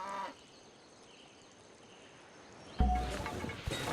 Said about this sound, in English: There's some cows up there, as well as some buffalo.